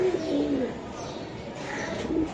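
Soft, low coos from Budapest racing pigeons repeat a few times over a steady background hum, fairly close but not loud.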